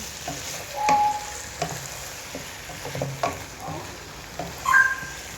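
Bhindi masala made with okra fries in a pan with a soft, steady sizzle. Gentle spoon stirring comes through as several scraping strokes and light clinks of utensil against the pan.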